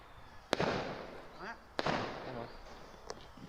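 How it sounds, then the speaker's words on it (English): Fireworks going off outdoors on a residential street, two sharp loud bangs about a second apart followed by crackling bursts and scattered fainter pops, with a voice talking in between. "Yes, fireworks."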